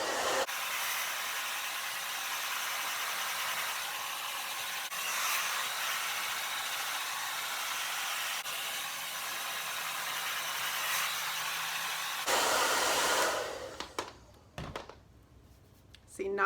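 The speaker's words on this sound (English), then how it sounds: "Now we blow dry, starting at the roots and keeping the ends as damp as possible and just lifting the roots up" A hair dryer blows steadily on fine hair at the roots, a loud, continuous rushing whoosh for about twelve seconds before it cuts off, leaving only faint handling sounds.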